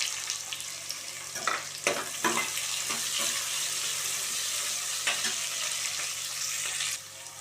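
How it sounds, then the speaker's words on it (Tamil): Finely chopped small onions fry in a pan with a continuous crackling sizzle, broken by several scraping strokes of a stirring spoon, up close, until the sizzle drops near the end. "அது கூட 20 சின்ன வெங்காயம் பொடியாக நறுக்கியிருக்கேன்,"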